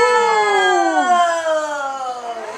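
A toy fire engine's electronic siren wails after its button is pressed, a loud, close, steady harmonic tone that slowly glides downward in pitch over a couple of seconds with a brief wobble midway, heard alone without talking.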